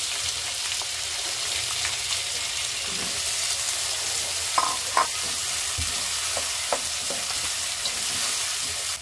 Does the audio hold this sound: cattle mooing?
no